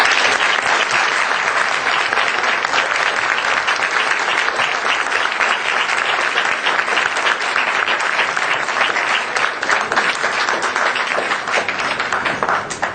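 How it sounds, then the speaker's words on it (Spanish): Dense, sustained applause from an audience at a debate tournament fills the room, steady and loud throughout with no pauses. "Un aplauso, por favor."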